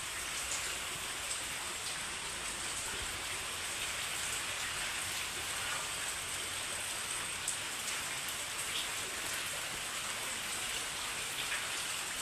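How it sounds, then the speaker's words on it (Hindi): Heavy rain falls steadily and continuously, a dense, even hiss of drops striking surfaces, close and unbroken throughout with no voices. "बारिश इतना ज़्यादा हो रही है कि थमने का नाम नहीं है।"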